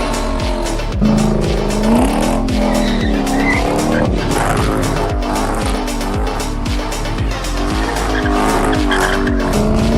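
A Mazda RX-8's engine roars and revs while tires squeal repeatedly in long skids, loud and continuous throughout, like a car drifting around corners.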